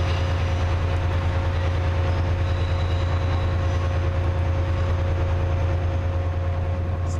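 A Chiltern Railways train from Birmingham Snow Hill pulls in to terminate at London Marylebone, its diesel engine giving a steady low drone with faint rail noise, continuous and fairly close.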